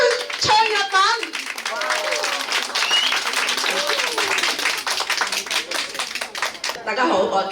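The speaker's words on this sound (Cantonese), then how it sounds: "係大家俾掌聲佢唱日文。" Applause from an audience at a singing contest greets a contestant about to sing a Japanese song, dense steady clapping throughout with a few voices and brief tonal sounds at the start, a host speaking briefly near the end.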